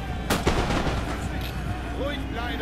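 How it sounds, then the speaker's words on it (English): Skirmisher musket fire in the Napoleon Total War battle game: a sharp close crack followed by scattered smaller shots and battle din under a constant background roar. "A lot of my men are getting shot by skirmisher fire on this flank."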